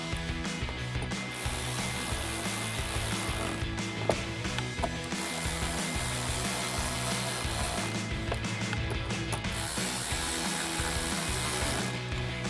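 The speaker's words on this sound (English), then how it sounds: "grab the ratchet and tighten them down" Steady, rapid ratchet clicking runs continuously as three screws are tightened on a 2016-2024 Camaro wheel liner, a dense close mechanical rattle with only brief pauses.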